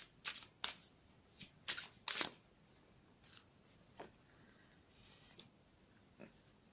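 Archangel Gabriel oracle cards are shuffled in several quick, crisp riffling bursts up close, followed by softer, sparser card taps and slides in a quiet room.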